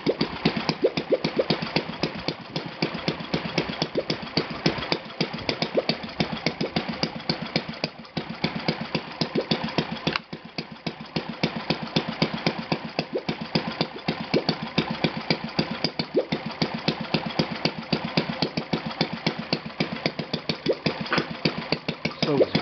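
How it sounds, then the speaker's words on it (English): Enya VT 240 model V-twin engine idling on a single cylinder, a continuous fast, even putter of firing pulses heard close up and steady throughout, with no voices. "Greatly idling on each cylinder separate"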